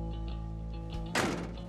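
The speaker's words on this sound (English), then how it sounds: "Door shuts, gorgeous." The door of a race car is shut once, landing a single solid, close thunk. Before it comes a quiet, steady background hum.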